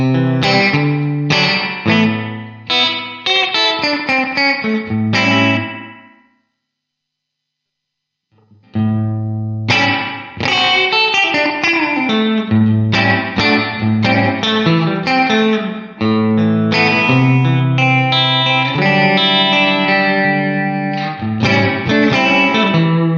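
Electric guitar played through the spring reverb setting of a Line 6 DL4 MkII pedal, bright chords and notes ringing with a springy, splashy tail, a short silent pause partway, then continuous strumming throughout.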